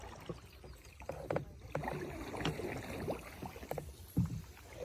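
A canoe paddled on a reservoir, with faint splashes and knocks of paddle strokes against water and hull in an uneven rhythm, quiet and close with light ambient wind.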